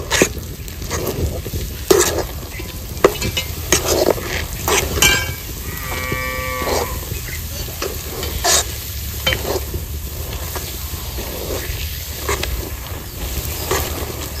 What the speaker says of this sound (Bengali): দিয়ে দিচ্ছি যে অল্প অল্প করে তেল আর ঘিয়ের মিশ্রণটা।